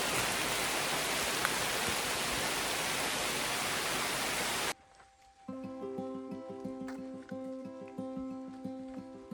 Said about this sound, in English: Some bit of rain, a bit of thunder.